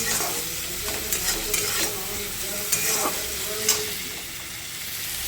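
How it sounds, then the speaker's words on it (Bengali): Fish curry with turmeric sizzles steadily in a pan while being stirred, a constant frying hiss broken by a few spoon scrapes and knocks. "হলুদটা দিয়ে ভালো করে একটু নাড়াচাড়া করে নেবে"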